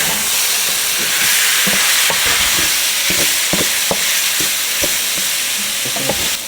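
Beef fries in a hot pan, giving a steady, loud sizzle and hiss broken by irregular clinks and scrapes of stirring, with no voices.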